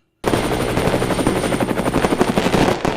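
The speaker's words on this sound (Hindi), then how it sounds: "ये छत पे एक हेलीकॉप्टर उतर रहा है।" A helicopter lands on a rooftop, its rotor beating in a loud, rapid chop that starts abruptly and pulses steadily until it cuts off.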